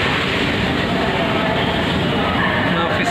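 A Jakarta light rail train rumbles steadily along with a constant, dense roar and faint rattling, loud and close throughout.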